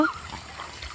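A dog on farmland beside a canal at dusk gives a short, sharp yelp or bark at the very start, followed by faint watery trickling and a quiet outdoor background.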